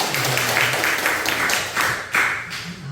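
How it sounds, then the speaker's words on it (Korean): A church congregation applauding in a Korean church during a testimony service, a short burst of steady clapping from many hands in a hall, fairly loud and continuous, then tapering off near the end. "다시 한번 박수 한번 해주세요."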